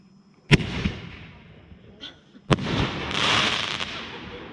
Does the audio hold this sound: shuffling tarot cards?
no